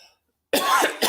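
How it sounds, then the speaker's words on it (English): A single harsh cough from a man on a live wrestling talk show, close and loud after a moment of silence, with a short second burst at the end. "I'm still coughing like crazy from Christmas"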